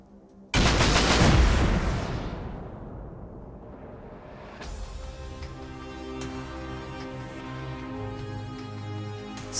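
Defenders' gunfire in the survival game Rust, a sudden loud burst of shots that rumbles and decays over a couple of seconds, followed by a lingering droning tone with faint scattered noise.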